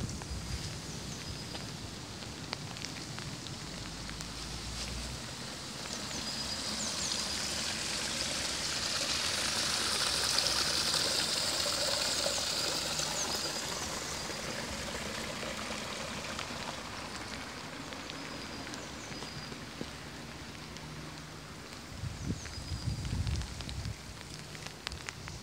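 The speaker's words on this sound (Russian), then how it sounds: "Дождь начался." Steady rain falls across a Japanese garden, a broad continuous hiss that swells slightly in the middle and then eases, with a few closer taps and low knocks near the end.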